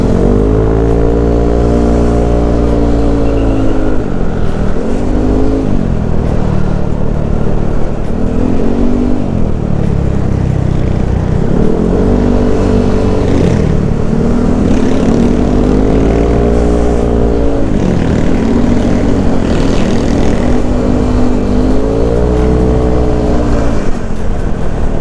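Yamaha NMAX motorcycle fitted with a racing exhaust, riding through congested traffic: a loud, steady engine drone near the listener that rises and falls repeatedly as the rider throttles up and eases off in stop-and-go movement.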